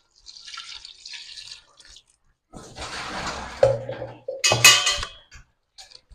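Thick first-press coconut milk being poured for a rice porridge, with soft liquid glugs and drips, a few light clinks of a pot or utensil between quiet pauses, and no talk.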